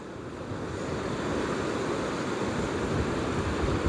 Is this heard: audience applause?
no